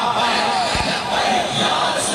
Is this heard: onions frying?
no